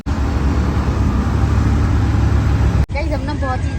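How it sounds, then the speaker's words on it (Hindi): Heavy street traffic in a Delhi market area, Chandni Chowk, a loud, continuous wash of engines and road noise close by that cuts out briefly near the end, with people talking over it. "गाइस हम ना बहुत ही ज़्यादा गंदे ट्रैफिक में फंसे हैं।"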